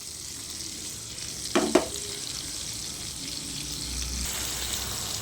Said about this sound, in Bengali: এবার এর মধ্যে আমি ভেজে রাখা আলুগুলো ছেড়ে দিচ্ছি।